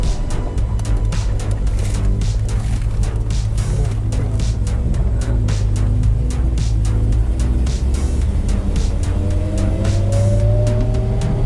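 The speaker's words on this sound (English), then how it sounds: "Remember the whine too of the tranny? Yes, old school bus transmission." A 1972 Dodge Charger running with its old-school bus-like transmission whine, a loud steady engine drone close up with a rising tonal whine toward the end, and no talk over it.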